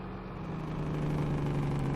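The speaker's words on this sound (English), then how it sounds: "this does have a great engine sound, which is nice, and overall, so far, this semi-truck" A steady, low semi-truck engine drone in the video game Farming Simulator 17, with a deep hum that rises slightly as the truck idles and pulls, heard alone without talk.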